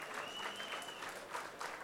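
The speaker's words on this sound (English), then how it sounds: "अगर ताली मारेंगे ना तो शर्मा के नहीं मारेंगे." Audience clapping at a CEO walk-and-talk event in 2019, a dense continuous patter of many hands with a faint tone running briefly underneath.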